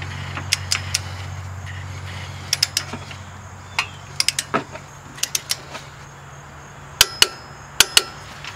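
Mazda 3 front strut bolt being tightened with a torque wrench: sharp isolated ratchet clicks and metallic taps in irregular bursts over a low steady hum, ending with a few louder clicks.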